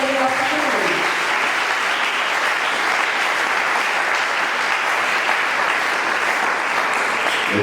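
A church congregation applauds and acclaims the Lord during a worship service led by a bishop, a dense, steady wash of clapping and cheering that holds at full strength throughout.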